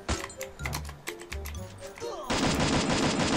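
Rapid bursts of gunfire from the shooter game Free Fire, loud and close, running together into a dense burst near the end, with game sounds and effects mixed in.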